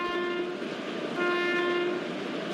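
A steady rumbling train in a railway video game, an Indian WAG7 locomotive slowing down on approach to a station, with a sustained tonal horn-like drone, loud and continuous, with a slight shift in pitch partway through.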